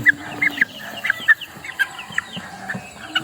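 White Kelso rooster and chickens cluck repeatedly in short, scattered calls over a low farmyard hum, close and moderately loud.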